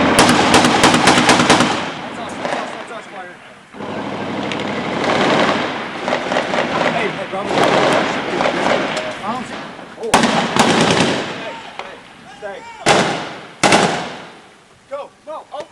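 Small arms and automatic weapons fire in combat, loud close bursts of rapid gunfire with sharp single shots and long ringing stretches, shouting voices mixed in.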